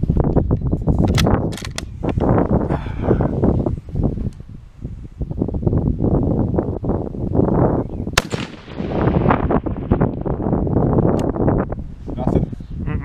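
A Carcano 1891 infantry long rifle in 6.5x52 is fired outdoors at a 500-yard target, letting off one sharp, loud report. Gusty wind noise and people talking fill the rest of the clip.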